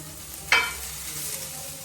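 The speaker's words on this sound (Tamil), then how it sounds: "நான் இப்போ சும்மா ராவாக ஃப்ரை பண்ணிக்கிறேன்." Raw tofu frying in a pan, opening with a sudden loud sizzle burst as it hits or is stirred, then a steady hiss of oil continuing close by.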